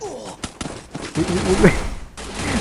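Rapid burst-fire gunshots ring out in the mobile shooter game Free Fire, a quick clustered volley of sharp cracks, with a voice exclaiming over the shots.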